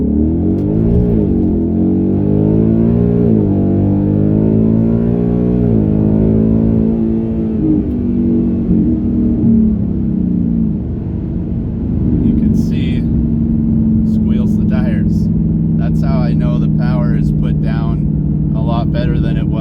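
A 2019 Ford Mustang GT accelerates hard from a stop, its engine pitch climbing steadily for several seconds before settling into a loud, even drone. Brief voices come through near the end.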